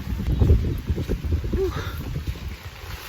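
Strong wind on Malapascua Island roars and buffets the microphone in heavy low gusts, with a brief voiced exclamation partway through.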